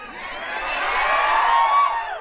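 A large political rally crowd roars with cheering, clapping and shrill whistles, a dense continuous wash of noise that swells and stays loud throughout.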